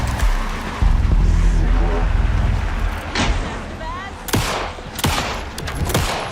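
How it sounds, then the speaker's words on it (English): Bursts of gunfire in the video game Alan Wake 2 crack out in quick volleys over engine-like rumble and background music, with sharp broadband shots near the end. "Anderson, pin him down with gunfire for me to get the light on him"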